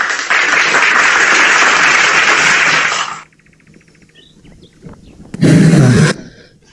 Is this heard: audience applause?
yes